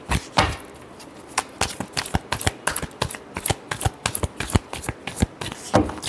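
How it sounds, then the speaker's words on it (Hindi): Tarot cards being shuffled in a run of crisp, rapid riffling bursts and soft slaps, close and fairly quiet, with no talking over them. "Last shuffle."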